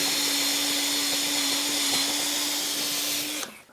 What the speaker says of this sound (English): Now I've got the combined chamfer and reaming tool here.